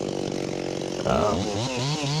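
Ported Stihl MS360 chainsaw with a Hyway pop-up piston, decked cylinder and tight squish, running near and loud, idling then revving while bucking and limbing a large blown-down maple.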